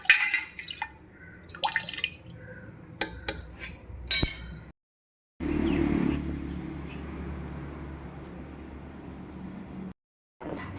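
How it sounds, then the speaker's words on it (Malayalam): Water drips and trickles off mango pickle, with scattered clinks of a vessel, then a steadier pouring wash partway through, broken by brief silences. "ഇതിന് കുറേ വെള്ളം അങ്ങ് നമ്മൾ കളഞ്ഞേക്കാം"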